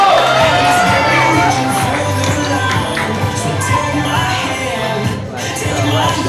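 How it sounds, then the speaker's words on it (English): A crowd at a martial arts black belt graduation cheers, whoops and shouts loudly and continuously, with children's voices and clapping mixed into the noisy hall. "Let's cheer them on."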